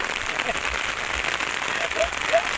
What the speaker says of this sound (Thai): ฝนตกครับ ข้าวที่จะตากเปียกหมดเลยครับ